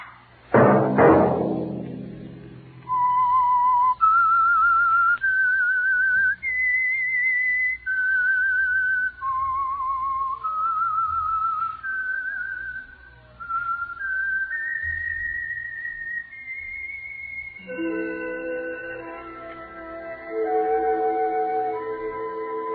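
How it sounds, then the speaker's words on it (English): A long melodic whistled tune serves as the signal for the old-time radio mystery program The Whistler, a clear solo whistle rising and falling in phrases before orchestral music joins near the end. "Let that whistle be your signal for the signal oil program, The Whistler"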